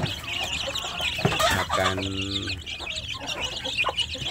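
Young free-range village chickens cluck and peep near at hand, with a louder cluck in the middle and busy high chirping running throughout.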